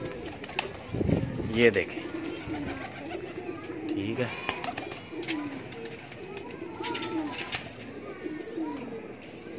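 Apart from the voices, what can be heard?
pigeons cooing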